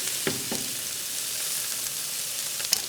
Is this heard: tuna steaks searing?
yes